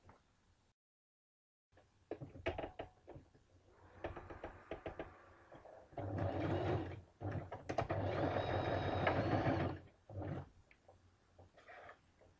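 A sewing machine stitches around a kameez in a few bursts, the longest runs steady and close, separated by knocks, clicks and handling of the fabric after a brief silent start.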